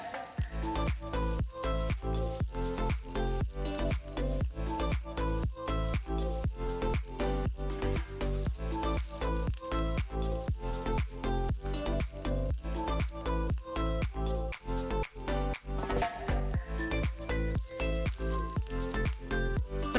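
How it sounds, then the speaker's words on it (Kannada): Steady sizzling of chili, coriander and pepper powders, garam masala and curry leaves frying in a pan for a mushroom pepper fry, with dense crackling and regular stirring strikes that carry on without a break. "ಖಾರದ ಪುಡಿ, ಧನಿಯಾ ಪುಡಿ, ಮೆಣಸು ಪುಡಿ, ಗರಂ ಮಸಾಲ ಜೊತೆ ಸ್ವಲ್ಪ ಕರಿಬೇವು ಹಾಕೊಂಡು ಫ್ರೈ ಮಾಡ್ಕೊಳ್ಳೋಣ"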